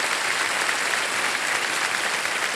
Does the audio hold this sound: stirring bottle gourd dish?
no